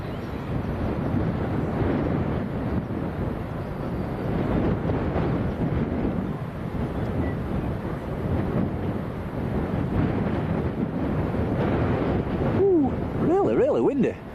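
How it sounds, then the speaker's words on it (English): Strong gusty wind at Leeds Bradford Airport buffets the microphone in a constant low roar, with faint rumbling underneath and a brief warbling sound near the end. "Really windy."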